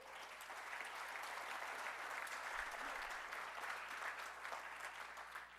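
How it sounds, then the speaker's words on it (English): A studio audience breaks into a steady round of applause, dense clapping that holds at an even level throughout without voices over it. "Isn't it strange that that stuff gets you a round of applause these days?"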